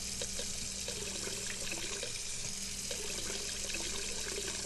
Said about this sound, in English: now that I have the seed and the can, the watering can, I need to fill it up with water.